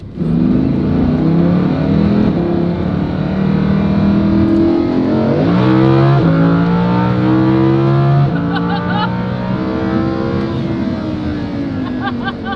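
Supercar engine revs hard and accelerates from inside the cabin, a loud continuous roar climbing in pitch through several gear changes with brief dips between shifts.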